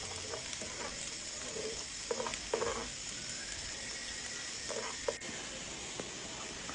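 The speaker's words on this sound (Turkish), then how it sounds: "Tavaya yağı koy. Kızdığı zaman soğanları at içine. Arada karıştır kızarana kadar böyle." Onions frying in hot oil in a pan for a börek filling, a steady soft sizzle and hiss with occasional faint stirring taps, fairly quiet and with no talking.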